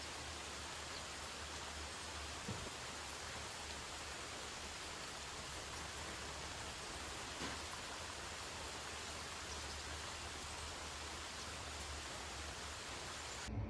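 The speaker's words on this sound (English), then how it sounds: "Now, I hope you enjoy the rest of the sounds of the rain." Steady rain falls outside a cottage during a Canadian summer, a dense, even hiss of drops that stays constant and close throughout, with no voices and only a faint low rumble beneath.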